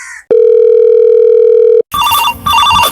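A telephone sounds a loud, sustained electronic tone for over a second, followed by a burst of shrill trilling rings in two quick clusters, close and clear with no talking.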